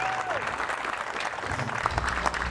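An audience at a car show applauds a U.S. Army sergeant, a moderate patter of clapping with a few cheers and voices mixed in throughout.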